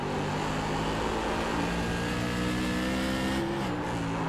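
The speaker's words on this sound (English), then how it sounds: "at a track like this, you hear them, they're on throttle, but they have to ease into it" Tour modified race cars on throttle at South Boston track, engines droning loud and continuous with layered revving tones that shift in pitch as the cars ease into the power, no voices.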